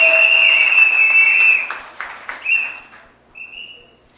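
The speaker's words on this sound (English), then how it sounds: "give all of our speakers a round of applause" Applause from a crowd at a live community event in Cunupia, clapping mixed with loud whistling, strong at first and then fading out in scattered bursts.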